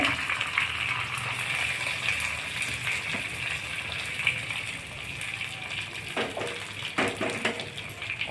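Raw green mango pieces sautéing in hot oil with coriander for a mango and green chilli kharda, a steady close sizzle and gush with occasional clinks of a spoon against the pan.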